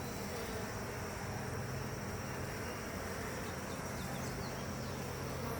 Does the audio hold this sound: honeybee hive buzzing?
yes